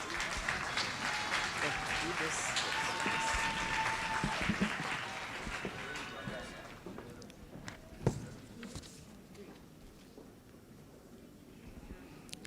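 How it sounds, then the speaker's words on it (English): An audience at a long service awards ceremony in Jamaica gives a round of applause for the awardees. The clapping is moderately loud, fades out after about six seconds, and is followed by quieter room sounds and footsteps. "Please give a round of applause, ladies and gentlemen, to our awardees."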